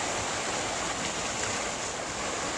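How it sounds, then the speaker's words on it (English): Choppy Newark Bay water rushes and splashes over a wall during Hurricane Sandy, a dense, continuous hiss of surf mixed with wind noise, loud and unbroken throughout. "I've never seen the Newark Bay this choppy. Water's just coming up right on the, coming over the wall here."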